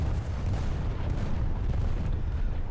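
A deep, rumbling explosion in a video game rolls on as a sustained low boom with crackling debris, loud and dense throughout.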